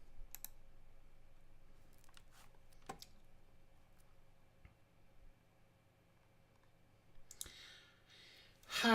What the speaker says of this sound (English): I'm just going to click the record button.